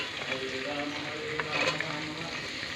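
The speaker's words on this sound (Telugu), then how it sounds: "ఉల్లిపాయలు వేగిపోయినవి ఇప్పుడు క్యారెట్ వేసుకుందాం" Carrots tipped into a pan of frying onions and green chilies for breakfast pasta, giving a steady moderate sizzle with light stirring scrapes and a few brief clatters.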